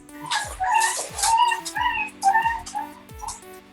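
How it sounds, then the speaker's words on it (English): A dog barks and yips repeatedly in a room, several close, moderately loud barks in an uneven rhythm with whimpering tones between them. "Oh, there's another dog right there."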